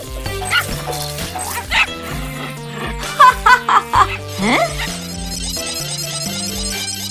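A cartoon dog barks in a quick cluster of sharp yips over bouncy background music, with a few whimpering squeaks around them and a brief giggle.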